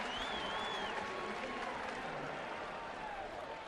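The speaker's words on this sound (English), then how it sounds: "And his reward, a nice round of applause." A baseball crowd at a ballpark applauds in a broad, even wash of clapping and cheering, heard at a distance beneath a broadcast announcer's talk.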